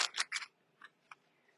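Scissors snipping paper close up, three quick crisp cuts in a row followed by two fainter separate snips, in an otherwise quiet room.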